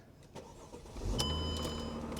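A V12 car engine cranking and catching, a short starter whir followed by the engine firing into a steady idle with a faint electronic chime above it.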